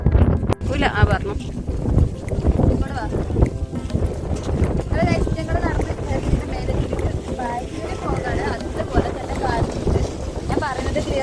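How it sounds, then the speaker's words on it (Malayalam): Strong wind buffets the microphone on a foggy hilltop viewpoint during a monsoon day trip, a loud continuous roar and rumble with gusts under a person talking throughout. "ഞാൻ പറയുന്നത് ക്ലിയർ ആവോ ഇല്ലെന്ന് അറിയില്ല. നല്ല കാറ്റുണ്ട്."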